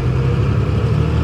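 A large modern tractor's diesel engine rumbles steadily at idle, a loud, deep, continuous drone heard up close with no voices.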